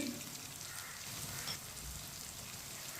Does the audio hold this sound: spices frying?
yes